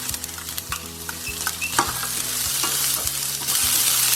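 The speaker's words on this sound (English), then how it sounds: "Give that a stir." Carrots and capsicum stir-frying in a pan for vegetable fried rice, a close steady sizzle with rhythmic scraping of a spatula that grows denser toward the end.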